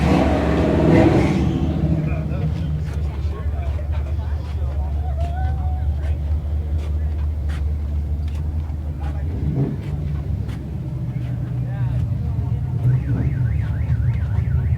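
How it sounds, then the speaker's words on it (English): Over a steady rumbling engine, a car alarm cycles through warbling electronic tones at an outdoor car show and swap meet, with faint voices in the background. "And we have a car alarm."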